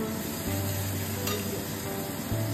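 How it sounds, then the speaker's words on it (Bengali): Garlic frying in a pan with onions for a fish ghuro: a loud, continuous close sizzle with a faint low hum beneath and no voices. "এই ভাজা হচ্ছে রসুন"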